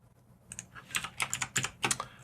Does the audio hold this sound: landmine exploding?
no